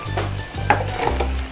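Fried chicken pieces go into a hot pan spiced with bay leaf, cinnamon, cardamom and a little chili powder for a chicken roast, giving a close sizzle with stirring scrapes and a few brief clinks over a low steady hum.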